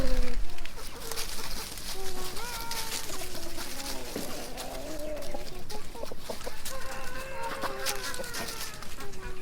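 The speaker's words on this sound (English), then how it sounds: "Now we're gonna let out the rainbow layer flock." A flock of rainbow laying hens clucks and murmurs close by as they are let out, with overlapping short calls, scattered rustling and occasional speech in the background.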